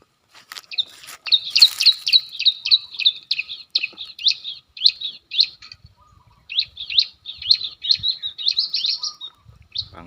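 Bar-winged prinia (ciblek) calls used to lure wild birds, rapid, high, repeated chirping phrases in two long bursts separated by a short pause, loud and close, with faint handling noises underneath.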